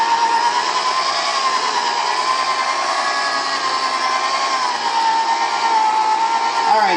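A power sander works a neon headlight lens with sandpaper, giving a steady, loud whirring buzz that holds evenly for the whole stretch with no talk over it.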